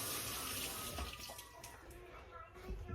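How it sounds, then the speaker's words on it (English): Water running from a kitchen tap over hands being rinsed, a close broadband splashing rush that stays steady throughout, with a person talking faintly alongside. "Let me rinse my hands."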